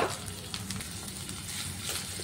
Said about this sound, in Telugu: తర్వాత ఇలా సన్న ముక్కలుగా కట్ చేసుకున్న ఉల్లిపాయను కూడా వేసుకొని బాగా ఫ్రై అవ్వనివ్వాలి